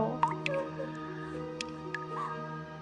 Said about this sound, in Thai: ก็มีเสียงน้ำหยดค่อย ๆผ่านเข้ามา